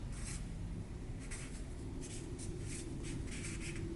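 A pen or marker writes on a paper sewing pattern for a copied T-shirt, giving quiet repeated scratchy strokes in close succession, faint and near, with no talk.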